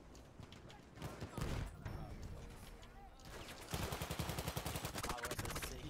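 Shotgun blasts and rapid gunfire in Battlefield 1's Argonne Forest, loud bursts building into a dense barrage of repeated shots.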